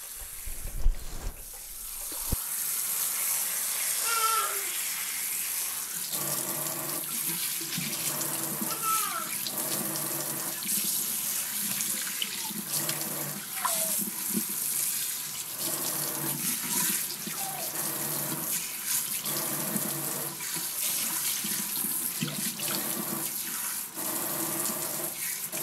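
Water runs steadily from a tap while product is rinsed out of curly hair, a constant close hiss lasting throughout with small splashing variations.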